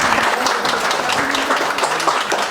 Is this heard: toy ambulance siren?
no